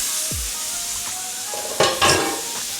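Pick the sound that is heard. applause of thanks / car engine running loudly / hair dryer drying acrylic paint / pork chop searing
pork chop searing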